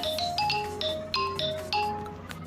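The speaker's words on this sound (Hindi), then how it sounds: "सबसे नीचे वाला ये रिंगटोन है, मैं इसको प्ले कर लेता हूँ," IMO app ringtone playing from a phone, a bright, repeating melodic chime pattern of quick tonal notes in clear, evenly spaced phrases, close and fairly loud with no talking.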